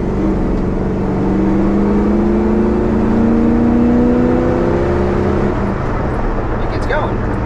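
A Chevy C10 pickup truck with an Edelbrock carburetor accelerates up through the gears, its steady engine drone rising in pitch under constant road and wind noise, with a voice talking faintly over it.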